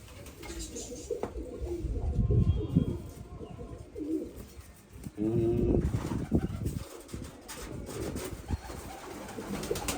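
Pigeons coo in soft, low repeated phrases close by, amid a busy, fluctuating background of rustling and handling noise.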